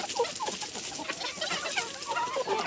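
Young roosters cluck steadily together in a farmyard, a close and continuous chatter of soft clucks and murmurs with no one speaking over it.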